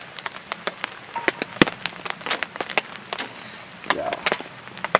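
Rain falling at a high-altitude mountain campsite in summer, heard as irregular sharp drips and taps on nearby surfaces, scattered and close, with no voices.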